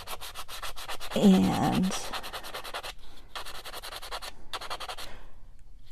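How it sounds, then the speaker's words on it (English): A vintage buffing block rubs back and forth over a darkened copper wire leaf, close up, in quick rhythmic strokes with brief pauses, and a voice speaks briefly near the start. "just give it a little buff to bring out the highlights of that darkened copper"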